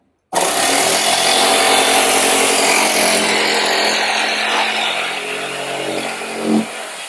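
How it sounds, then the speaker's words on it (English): A handheld jigsaw cuts steadily through a board, a loud continuous buzzing rasp that runs unbroken for several seconds and eases slightly near the end, with no voices over it. "Jigsaw."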